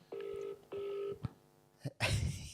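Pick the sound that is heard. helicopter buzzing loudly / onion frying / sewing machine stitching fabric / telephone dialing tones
telephone dialing tones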